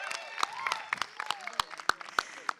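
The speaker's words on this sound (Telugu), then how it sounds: "ఒక్కసారి గట్టిగా చప్పట్లు కొట్టచ్చు కదా" An audience at a film trailer launch event for Extra Ordinary Man claps in scattered, uneven bursts, sharp individual claps standing out against a busy crowd background.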